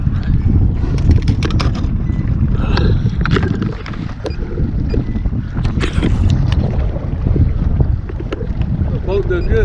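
A bass fishing boat runs across open water, with a loud, steady rumble of engine, hull and wind buffeting that stays constant throughout and has no clear talk.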